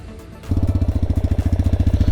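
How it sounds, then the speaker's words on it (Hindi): The engine of a TVS Raider 125 motorcycle fires up after a brief quiet moment and settles into a close, loud, evenly pulsing exhaust beat. "the engines exhaust note is really sweet"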